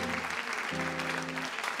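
Sustained applause from a church congregation, steady and dense, with a held musical tone and faint voices underneath.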